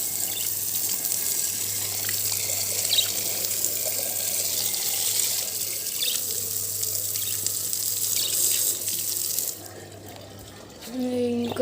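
Tap water runs steadily for about nine and a half seconds while a bird cage and its small clay water pot are washed, then cuts off, leaving a quieter room.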